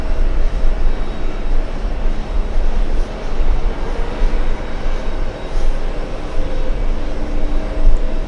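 A blue JetBlue jet arriving at JFK after a short flight from Boston, its broad engine roar steady and fairly loud throughout, with a deep rumble underneath and no voices.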